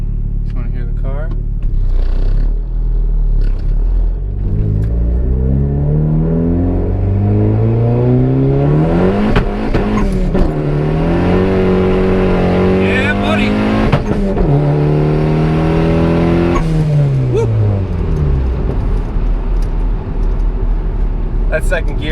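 Turbocharged Honda Accord accelerating hard through the gears, loud engine rising in pitch, dropping at each shift and climbing again, with tire noise and voices talking over parts of the run.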